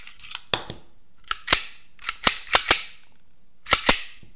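A Walther PP Sport .22 LR pistol is worked by hand, its slide cycled and hammer dry-fired. Sharp metallic clicks and clacks come close and loud in small clusters with short pauses between, and no voices.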